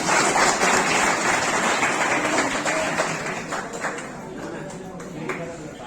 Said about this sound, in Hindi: संतालाल जी जोरदार तालियों से स्वागत